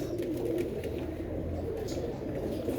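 A flock of white kaldum pigeons coos softly and continuously at close range, a low murmuring burble without pauses.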